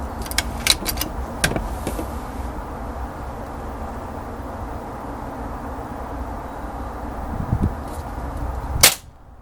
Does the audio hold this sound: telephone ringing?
no